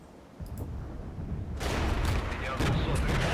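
Mortar and artillery fire in the Regiments war strategy game: quiet low rumbling at first, then a heavy sustained barrage of booming blasts that swells louder toward the end, with someone talking underneath.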